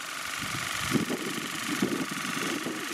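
A Youngdo cordless water flosser running at its strongest power setting, a continuous close motor hum with a pulsing, slightly knocking buzz, fairly faint and steady for three seconds.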